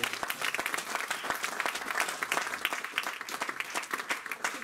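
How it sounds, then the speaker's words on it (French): A church congregation bursts into dense, steady applause, many hands clapping at once with scattered cheers, filling the room evenly throughout. "Donnons une acclamation."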